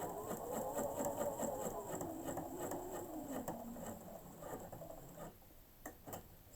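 Sewing machine stitching a pleated fabric mask, a steady close mechanical whirr with a rapid needle rhythm running almost continuously before slowing and stopping near the end.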